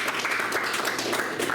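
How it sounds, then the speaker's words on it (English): Audience applause for Mr. Kepley at the close of a class session, a dense steady wash of many hands clapping at moderate level, continuous through the short stretch with no voices. "Give Mr. Kepley another round of applause."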